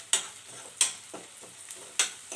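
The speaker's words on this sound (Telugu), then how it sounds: "ఉల్లిపాయ అయితే మగ్గుతా ఉంది" A spatula scrapes and stirs onions sautéing in a pan in quick, repeated strokes over a soft sizzle, close by.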